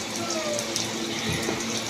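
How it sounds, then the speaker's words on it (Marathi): Water pouring steadily inside a household air cooler after its water pump motor was fixed, a continuous close splashing trickle with no pauses. "हे बघा आता कसं पडतंय पाणी."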